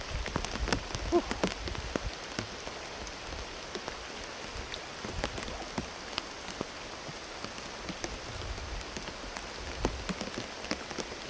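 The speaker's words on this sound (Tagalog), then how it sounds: "sobrang lakas ng ulan" Heavy rain pours down steadily, a dense hiss of drops hitting surfaces with scattered louder splats close by.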